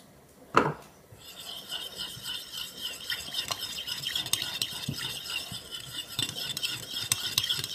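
Vinaigrette seasoned with salt and pepper being whisked in a bowl, opening with a single knock, then continuous rapid scraping and swishing strokes, fairly faint and alone.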